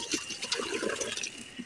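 Mung bean soup being poured back into the cooking pot, a brief continuous liquid pour and splash heard close up.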